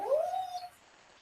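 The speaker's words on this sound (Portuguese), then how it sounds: "Parece cachorro bobo, fica chorando aí." A dog whines and cries close by, a single rising then falling plaintive whimper lasting under a second, moderately loud, then fading into quiet.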